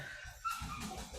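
A dog whimpers at a window, a faint thin whine over a low background rumble, brief and somewhat distant.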